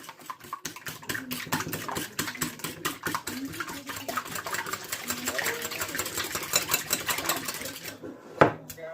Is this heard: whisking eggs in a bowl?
yes